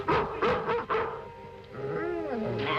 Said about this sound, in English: confounded Miller dog